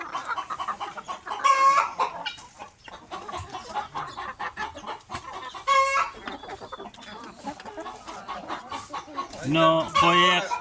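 Tiger chickens on a farm cluck steadily, with sharp rooster crows bursting out now and then and voices talking underneath.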